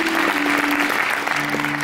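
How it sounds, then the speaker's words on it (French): A concert audience applauds the crew at a show, dense steady clapping filling the hall close and loud throughout, with a sustained tone running underneath. "on peut applaudir très fort."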